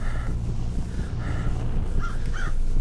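Birds caw in the indie horror game Fibrillation, several harsh crow-like calls repeating over a dense, rumbling ambient drone, at moderate distance.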